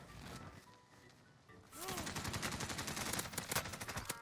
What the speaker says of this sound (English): There's a guy shooting a bad guy!